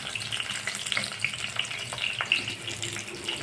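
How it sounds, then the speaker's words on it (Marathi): Garlic fries in hot oil for a chutney, giving a steady, close crackling sizzle with small pops and stirring scrapes throughout. "त्यातच मी लसूण घालत आहे. लसूण पण तळून घेणे"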